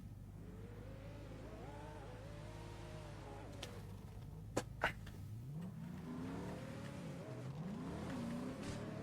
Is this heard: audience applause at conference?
no